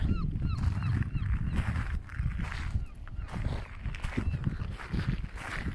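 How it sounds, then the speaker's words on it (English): Thin, high gull cries repeat over rushing wind and waves, several calls scattered across the span. "Nice seagulls there."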